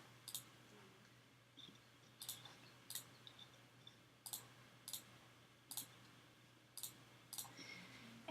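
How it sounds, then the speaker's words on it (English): Computer mouse clicks during data entry on an online application form: about a dozen short, sharp clicks spaced irregularly over a faint steady hum, close and quiet, with no talking. "you can go ahead and click on the little red X"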